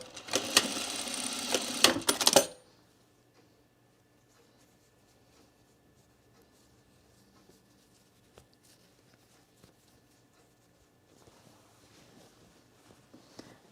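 A sewing machine runs fast and loud for about two seconds while stitching piping onto a garment edge, then stops, leaving a long near-silent stretch with faint handling sounds toward the end.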